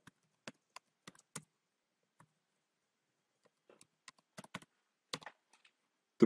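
Keys on a Mac computer keyboard are tapped in short, sparse bursts, quiet isolated clicks with pauses between, close and alone in a silent room.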